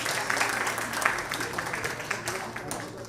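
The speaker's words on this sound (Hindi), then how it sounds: "एक बार जोरदार तालियां मालती जी के लिए।" Scattered clapping from an audience at an annual day celebration honors a performer, moderate and continuous under a speaking voice.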